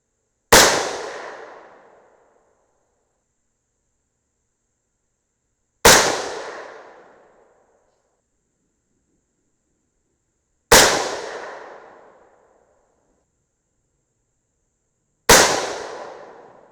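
Four loud, sharp 6mm rifle shots fired through a muzzle brake with weights set all the way forward, each crack decaying quickly, spaced about five seconds apart with silence between.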